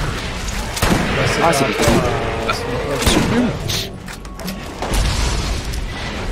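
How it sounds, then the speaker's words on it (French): Gunfire and booming shots in the shooter game Borderlands, a steady barrage of loud impacts and bangs mixed under excited male French speech. "Oh, mais qui c'est qui me tire dessus, là?"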